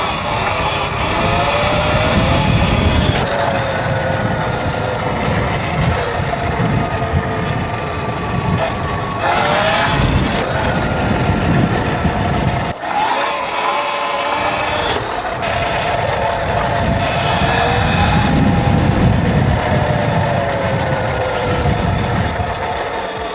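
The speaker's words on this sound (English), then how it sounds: "Hate that the bike's making a bad sound," A close, loud, continuous whine and rough drone from an E Ride 3.0 electric motorcycle that runs chuggy with a slipping belt, riding in high wind, rising and falling in pitch with brief dips as the throttle changes.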